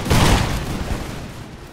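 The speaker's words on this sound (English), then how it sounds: "So they'll exchange volleys. Swedes will fire first." Swedish regiments in the Imperial Splendour strategy game fire a musket volley, a dense crackling burst that swells at once and then tails off into a low rumbling echo, loud and alone.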